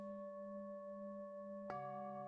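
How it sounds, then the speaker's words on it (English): Tibetan singing bowl ringing with a sustained, pure, multi-toned hum, then a second bowl is struck, adding a fresh bright chime that layers over the lingering tones; quiet and close, no voices. "sync your breath with the sound of the Tibetan bowls."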